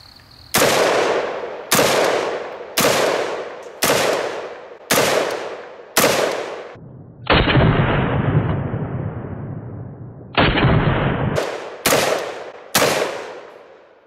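Ten rifle shots fired through a KAK flash can muzzle device, loud sharp cracks spaced about a second apart, some with longer rolling echoes, outdoors with no talking.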